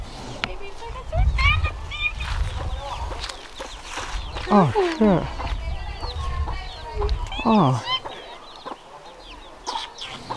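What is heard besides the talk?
baby chickens clucking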